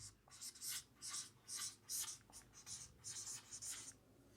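A word is written on a board in a run of quick, rhythmic scratchy strokes and short pauses. The strokes are close but fairly quiet, with no voice.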